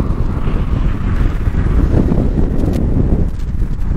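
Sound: strong wind blowing on a bridge

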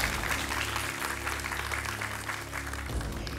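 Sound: audience applauding quiz leaders

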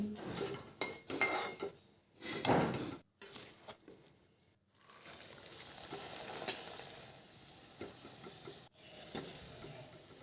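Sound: frying stuffed lentil dal puri until golden red

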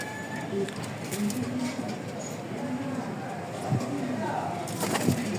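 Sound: American Birmingham Roller pigeons cooing

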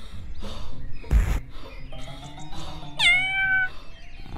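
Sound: cat meowing

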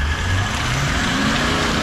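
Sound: off-road 4x4 engine revving, sounding like a V8

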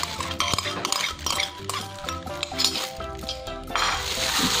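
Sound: stirring shrimp and pork dumpling filling with egg

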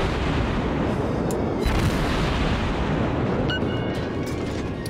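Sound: warship guns firing high explosive rounds in World of Warships video game

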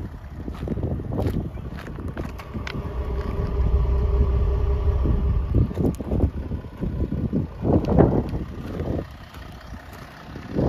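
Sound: diesel car engine idling

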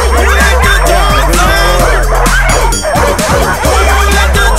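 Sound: sled dogs barking

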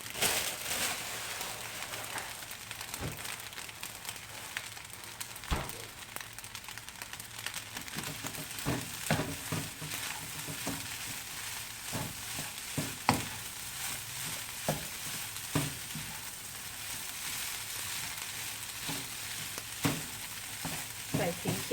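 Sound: stir-frying egg and chicken fried rice with spinach

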